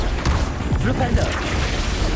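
A Flipendo spell cast in Hogwarts Legacy lands as a loud burst of impacts and crashes over a constant low rumble, with someone talking over the game.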